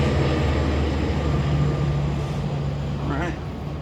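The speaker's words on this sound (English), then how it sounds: "Oh, there's the train that goes by." A train passes behind a small backyard garden in April, a loud steady rumbling roar that fills the scene and eases slightly at the end, with a person talking briefly over it.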